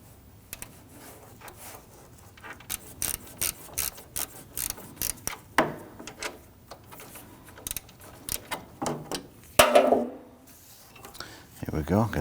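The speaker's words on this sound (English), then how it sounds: "I'm going to go ahead and use my 1/4" ratchet and socket to get in there." A 1/4-inch ratchet and socket works an 8mm screw out on a 2010-2019 Ford Taurus during radiator replacement, giving repeated short bursts of close metallic clicking with brief pauses, and a person speaks over parts of it.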